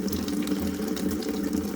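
Water rushes steadily from a water heater's pressure relief valve overflow pipe into a bucket, a close, continuous gushing hiss with a low pumping hum underneath.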